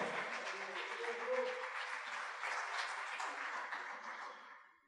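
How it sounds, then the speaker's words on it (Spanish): A church congregation at a worship service claps in sustained, fairly faint applause that holds steady for several seconds, then tapers off at the end. "Dale un aplauso fuerte al Rey de Reyes y Señor de Señores."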